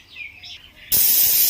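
A pressure cooker on a gas stove, cooking vegetable pulao, lets out one loud, sustained steam whistle that bursts in suddenly and holds steady as a sharp, hissing shriek.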